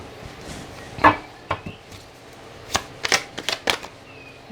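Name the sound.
tarot cards being shuffled and drawn from a deck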